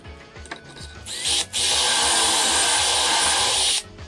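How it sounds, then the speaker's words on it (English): A power drill bores dowel holes through a doweling jig into wood, a loud close whirring burst of about two and a half seconds after a few short quieter starts. "And continue this until we bore holes for all the marks."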